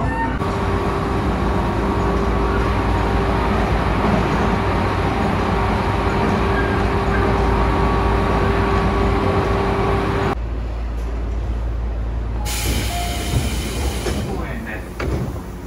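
Inside a Tobu Railway section express electric train bound for Minami-Kurihashi, a continuous rumble of wheels and motors runs under an onboard voice announcement. The noise drops and shifts partway through as the train changes speed.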